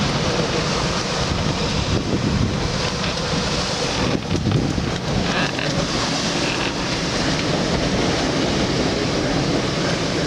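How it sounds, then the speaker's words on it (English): Rough sea and wind around a sailboat taking big waves, a dense roaring wash of wind buffeting and rushing water that is loud and constant, with no distinct splashes standing out. "But we've been taking some big waves, some big pounding."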